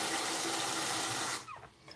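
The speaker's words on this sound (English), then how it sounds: "We're gonna put some warm water in this this holder" Warm water pours steadily into a denture holder, a close rushing splash that cuts off after about a second and a half, leaving a few faint drips and clinks.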